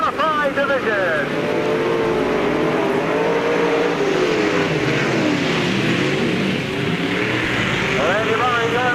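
Modified division race cars roar around the oval at Peoria Speedway, engines rising and falling as they pass in a loud continuous pack, while an announcer talks over the racing.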